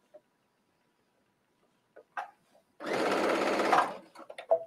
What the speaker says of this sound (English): So I'm going to stitch as far as I can.